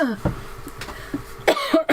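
A few short coughs close by from laughing, with a breathy burst near the end, amid background noise.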